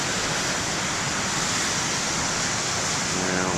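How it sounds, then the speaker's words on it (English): Ocean waves break on the beach by the BTL main lighthouse, a loud, steady rush of surf filling the short stretch without any voices. "See, the waves are coming this way, others are going that way."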